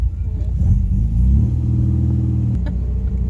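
A 1968 MGB's engine idles steadily up close, a low throbbing rumble that rises slightly partway through, as though revved a touch, then settles back to an even, uneasy idle.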